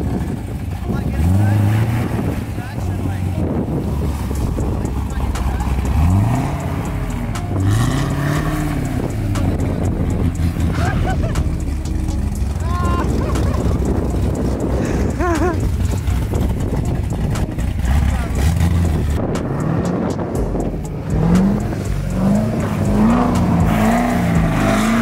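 A Chevrolet Corvette Z06 on an icy road revs repeatedly, its engine rising and falling in short bursts while the car spins donuts, with voices talking over it.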